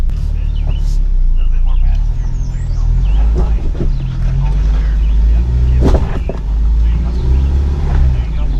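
A Ford Bronco backs up through deep Everglades mud, its engine running with a steady, heavy low rumble and occasional clunks and splashes, while people talk over it.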